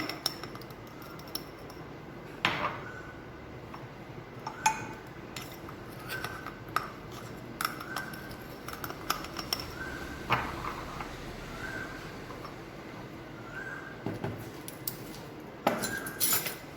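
Sugar spooned into a mug for an espresso chocolate mug cake: light scrapes and several small clinks of a spoon against ceramic, close and moderately quiet, with a clearer tap near the start and another near the end.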